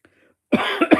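A few harsh coughs close to the mic, three bursts in quick succession after a brief quiet moment.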